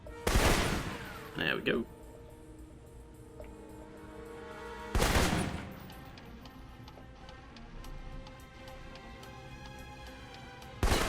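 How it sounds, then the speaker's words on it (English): Assault rifle fire in the video game Alpha Protocol comes as a few sharp, loud bursts spaced several seconds apart, separated by quieter stretches of faint ticking game ambience, with one man's brief spoken remark. "And finally, the assault rifle."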